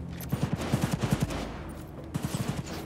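Bursts of smart pistol fire in Cyberpunk 2077: two quick volleys of rapid, evenly spaced shots, close and loud, separated by a short pause, with no talking.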